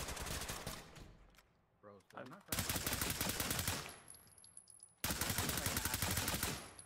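Video game gunfire rattles in rapid bursts of automatic shots, loud and close, broken by short pauses; a voice speaks briefly in one gap.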